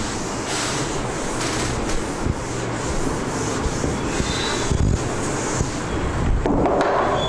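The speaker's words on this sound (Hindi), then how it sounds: "अब इसको ऊपर से रब कर लेते हैं" Continuous scratchy rubbing of an eraser over paper while solving a Class 12 CBSE matrices problem, steady strokes running throughout at moderate, close level.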